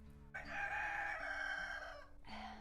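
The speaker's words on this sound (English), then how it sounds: "I hear you. You don't need to keep crowing." Rooster crowing nearby in a garden, one drawn-out crow filling most of the moment, then the start of another call, fairly faint overall with no talk over it.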